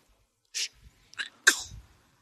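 A single close sneeze bursts out during a live theatre open-mic reading, preceded by a short sharp inhale and followed by a brief breathy tail, loud against near silence.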